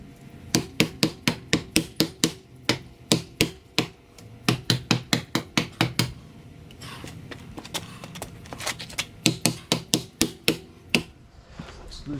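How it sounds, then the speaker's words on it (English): Repeated sharp dead blow hammer blows on metal bracing in quick rhythmic bursts, loud and close, with brief pauses between groups of strikes. "when I hit it with the dead blow hammer, it starts to bend"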